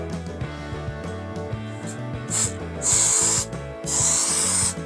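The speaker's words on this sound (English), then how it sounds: "this adhesive stuff I learnt from doing the headliner. You have to spray it on both surfaces" Spray adhesive hisses onto surfaces during a van conversion in two sustained bursts of a second or so each. Music plays in the background and stays under the spraying.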